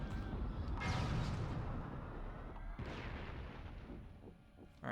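Devastator weapon blasts and explosions from the Ratchet and Clank video game, two heavy booming bursts a couple of seconds apart, loud and close over a dense rumbling backdrop.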